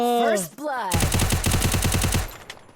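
Rapid automatic gunfire bursts out in the Free Fire battle royale game, a fast, evenly spaced string of loud shots following brief sweeping electronic game sounds.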